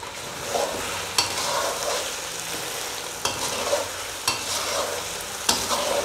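Chicken karahi with a ground green chili, coriander and mint paste sizzles in a pan while being stirred, a steady close frying hiss punctuated by several sharp spatula knocks against the metal, with no one speaking.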